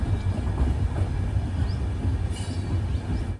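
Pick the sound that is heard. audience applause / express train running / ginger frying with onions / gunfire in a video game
express train running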